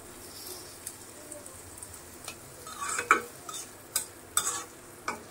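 Sliced onions sizzle in hot oil in a small, old, blackened wok, with a spoon scraping and clacking against the metal in uneven strokes, the stirring growing busier toward the end.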